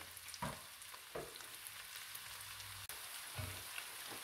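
Leftover lechon lamb fries in a pan as dinakdakan is made, a quiet continuous sizzle and crackle with a few louder spatters and stirring knocks.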